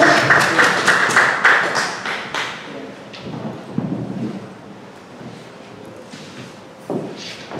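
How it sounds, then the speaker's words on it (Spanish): A seminar audience gathered for a book discussion claps in welcome for the panel, a burst of scattered close-range clapping at the start that thins into sporadic claps and thumps before fading. "Aplausos para ellos, por favor"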